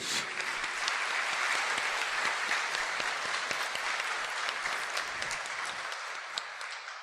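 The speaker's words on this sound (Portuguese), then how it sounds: "Dê uma salva de palmas para ele, minha gente." A church congregation claps steadily during a homily for several seconds, a dense patter of many hands that gradually thins and fades toward the end.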